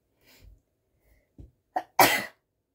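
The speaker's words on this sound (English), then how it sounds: "I'm going to sneeze. Give me a second." A few soft breaths build up, then a single sharp, loud sneeze bursts out near the end, close and clear in an otherwise quiet room.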